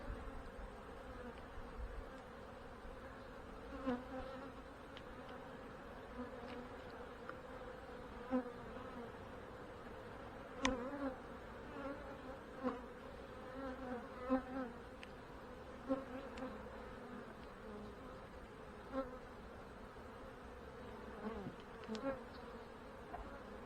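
Honey bees from five colonies drone in a steady, continuous buzz while the hives are opened for quick inspections, with occasional nearer bees flying past and a constant low hum that stays moderately quiet throughout.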